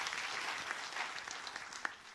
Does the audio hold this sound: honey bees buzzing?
no